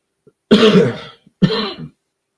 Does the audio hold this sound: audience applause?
no